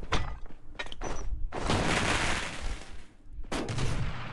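Bursts of gunfire and blasts from enemy bombing in the battle royale game Rules of Survival, loud and close, coming in separate waves with short gaps between them.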